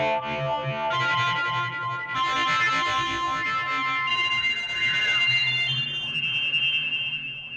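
A Bazille synthesizer patch with a simple setup plays a bright, buzzy, distorted tone that shifts and sweeps for several seconds, loud and steady, with no voices.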